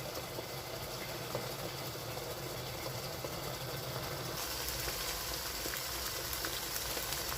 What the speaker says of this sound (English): So I'm going to cover to fry for 5 minutes.